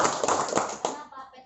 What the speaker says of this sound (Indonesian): Untuk PTBS boleh tepuk tangan Bapak Ibu.